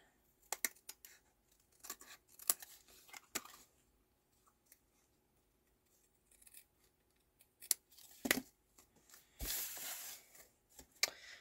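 Scissors snip through cardstock at a cardmaking desk in a series of short, separate cuts spread across the clip. A louder, rustling burst comes near the end, with no talking.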